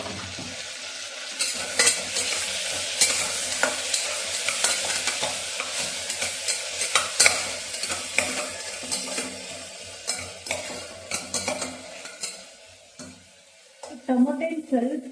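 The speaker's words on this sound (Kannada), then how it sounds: "ಆಮೇಲೆ ಟೊಮೊಟೊ ಹಣ್ಣು ಹಾಕೊಳ್ಳೋಣ." Tomatoes are tossed into partly cooked pulses in a pan, with constant loud sizzling and busy spoon scraping and clattering as everything is stirred.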